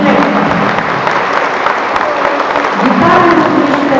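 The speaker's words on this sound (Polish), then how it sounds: "a zatem jeszcze raz gromkie oklaski dla Pana" Outdoor crowd applause at a municipal street running event, loud sustained clapping from spectators with a faint voice mixed in, swelling slightly toward the end.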